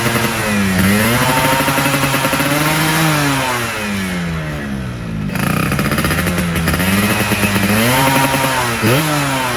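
Motorcycle engine with a ported head and a size-58 pilot jet, revving hard and close in repeated rising and falling blips, loud and raspy, with a brief dip to idle midway before revving again.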